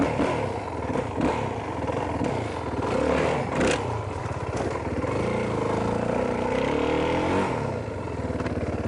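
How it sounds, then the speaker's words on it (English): Dirt bike engine roaring steadily and loud, close by, with throttle swells and rising revs as the rider lifts into a wheelie and pivots the bike around on one foot. "what I'm going to try to do is wheelie the bike up, leaving one foot on the ground, and pull the bike around so it's turning and facing the other way."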